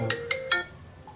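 A mobile phone signals an incoming call with three quick bright electronic tones in steady rhythm, fairly close over a low background murmur.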